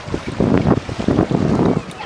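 Wind gusts buffet the microphone on a Red Sea beach at Makadi Bay, Egypt, with surf rumbling underneath in loud, uneven blasts.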